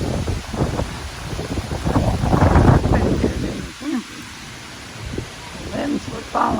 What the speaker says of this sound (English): You hear that wind?